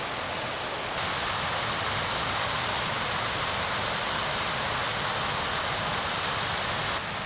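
A waterfall in the Cairngorms in winter, a dense, steady roar of falling water, close and loud, with no voices over it.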